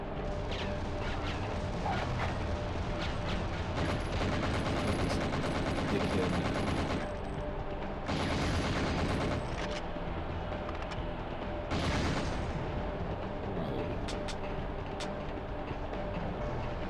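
Gunfire in the PS1 video game The World is Not Enough: rapid bursts of shots and explosive blasts crowd the scene, dropping briefly to quieter stretches before resuming, no voices.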